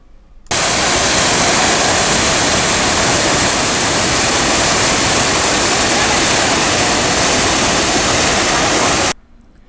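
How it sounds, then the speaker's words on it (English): Athirapally waterfall plunging with tremendous force, a dense, steady roar of crashing water heard from a distance that fills the whole stretch, rising abruptly and cutting off near the end. "The water is falling with such a great force that we are standing very far from the place of waterfalls"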